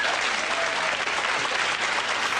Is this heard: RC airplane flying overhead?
no